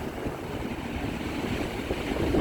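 Strong wind roars against the microphone over a broad wash of churning waves, a continuous stormy rush without speech.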